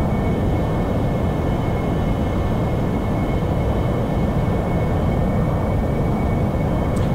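AV-8B Harrier jet engine in DCS World, a steady loud broadband roar with a faint high whine, continuous and unchanging throughout, with no talk.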